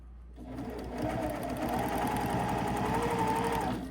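A sewing machine runs steadily for several seconds, stitching through layered fabric of a zippered novelty pouch held with double-sided tape, a close, even mechanical whir at slow speed with no talking.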